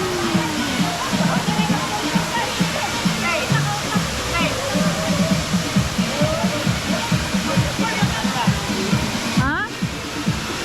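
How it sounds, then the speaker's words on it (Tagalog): Mahayahay Carapagan Falls gives off a constant broadband roar of falling water, loud and close, with indistinct voices faintly audible over the rushing sound. "This is Mahayahay Carapagan Falls"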